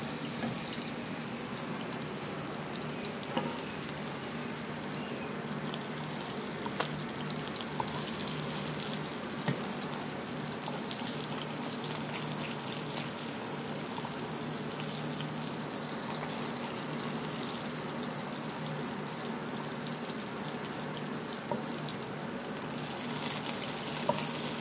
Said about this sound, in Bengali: শুধু আদা রসুনটা একটু জাস্ট ভাজা হোক।